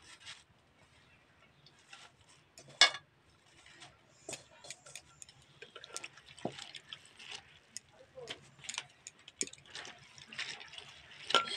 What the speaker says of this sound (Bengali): শাকগুলো জলে ধুয়ে নেব।